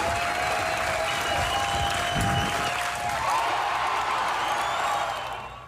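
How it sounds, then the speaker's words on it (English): A stadium crowd at a Husker softball game in Bowlin Stadium applauding and cheering as the game ends, with a steady roar of clapping and whoops that fades out at the end. "The crowd goes wild in Bolin Stadium this afternoon"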